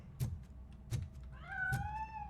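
Cat in the video game RoboCop: Rogue City meows, with three soft thumps and a drawn-out, rising meow at the end.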